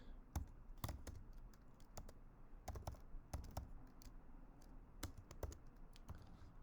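Computer keyboard being typed on while filling out a webform, irregular bursts of light clicky keystrokes, quiet and close, with short pauses between clusters and no talking.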